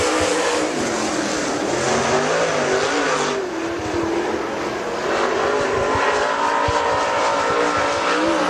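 Super Late Model race cars roar around the dirt oval at Dixie Speedway, engines loud and sustained as they sweep through a corner, with a slight dip and swell as the pack passes.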